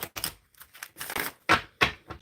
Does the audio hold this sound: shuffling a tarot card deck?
yes